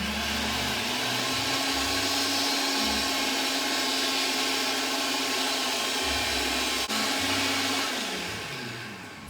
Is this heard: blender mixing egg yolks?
yes